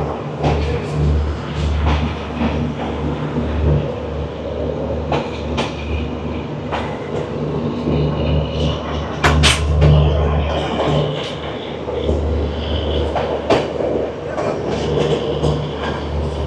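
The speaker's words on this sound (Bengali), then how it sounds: "ঠিক 2 মিনিট দাঁড়িয়ে আমাদের ট্রেন ছেড়ে দিল বোলপুর শান্তিনিকেতন স্টেশন" Steady rolling rumble of the 12041 Howrah–NJP Shatabdi Express pulling out of Bolpur Shantiniketan station, with continuous wheel noise on the rails and occasional clicks and brief squeals riding over it, close and fairly loud throughout.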